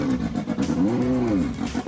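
A Renault 5 Turbo engine growls loud and near, a short throaty burst whose pitch rises and falls once in a brief rev.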